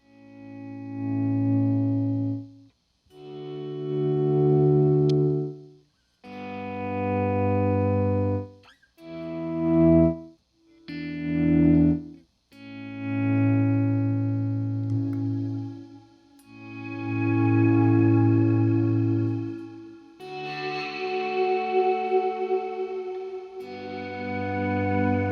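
Electric guitar volume swells played through a Boss RV-5 digital reverb pedal on its modulate setting: a series of slow, smooth sustained chords that fade in, hold, and trail off with shimmering, wavering reverb tails, close and alone.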